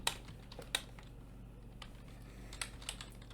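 Code being typed on a computer keyboard, a few quiet, close key taps spread over a faint steady hum, with no talk.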